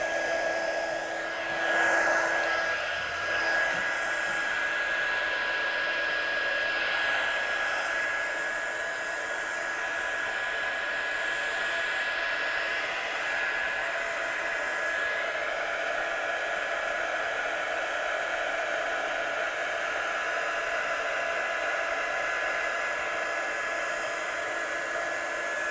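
A heat gun blasts hot air to dry freshly stamped ink on paper, a loud, close, continuous whooshing roar with a steady whine that runs unbroken throughout.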